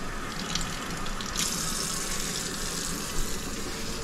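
Tap water pours steadily into a Presto digital canner holding jars, a continuous close hiss and gush that keeps an even level for several seconds without pauses.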